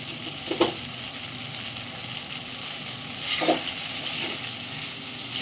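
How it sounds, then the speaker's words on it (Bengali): Food frying in a kadai after a pinch of sugar is added, a steady soft sizzle with a couple of brief stirring scrapes, close and moderately quiet. "চিনিটা দিয়ে আবারও নেড়ে নেবেন"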